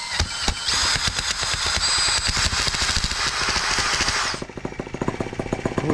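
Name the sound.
brand new TR1 tractor engine starting and running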